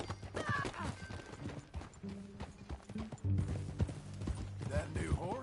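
Horse hooves clip-clop steadily on the ground during a ride in Red Dead Redemption 2, close and rhythmic, with a whinny, creaking tack and voices talking over the gallop.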